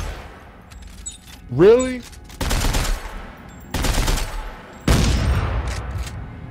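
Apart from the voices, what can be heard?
weapon firing in the video game Dead Space 3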